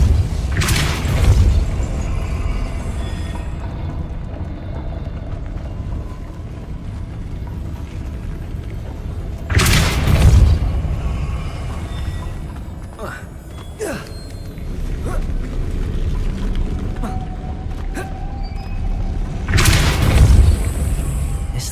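Three heavy booming bursts from the Depulso spell in Hogwarts Legacy, each a loud low thump with a rushing tail, spaced several seconds apart over a droning game ambience.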